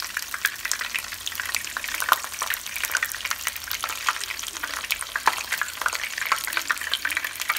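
Battered cauliflower florets crackle and sizzle steadily in very hot oil, a dense continuous frying hiss with scattered sharp pops throughout, close and fairly loud, with no talking.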